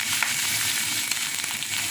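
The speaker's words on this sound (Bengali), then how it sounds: "টেবিল চামচের 1 চামচ ভরে রসুন দিয়ে দেব।" Garlic sizzles as it is added to dried-fish paste frying in a pan, a steady broadband crackle and hiss with small pops throughout, close and fairly loud, no voices.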